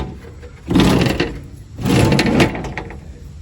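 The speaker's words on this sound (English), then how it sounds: "pull the fender out so you can open the door" On a long-neglected 1980 Trans Am project car, the door is forced open after the fender is pulled out, giving two close, creaking, scraping mechanical bursts separated by a brief pause.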